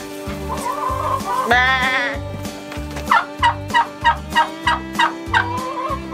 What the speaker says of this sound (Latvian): tagad es jūs iepazīstināšu ar kazi Ralfu.